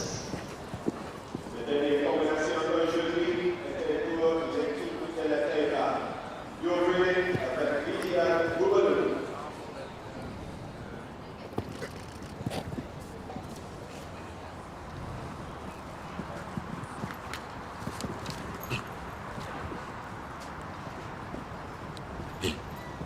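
At a Nations Cup show jumping event at Hickstead, a horse's hooves thud on the turf in scattered beats, with several sharper knocks toward the end. A commentator talks over the first half.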